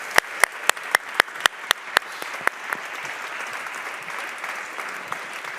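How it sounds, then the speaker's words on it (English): A conference audience at a forum applauds its speakers, opening with a few sharp, distinct claps that quickly merge into steady, moderate clapping. "join me in tribute and applause to our speakers"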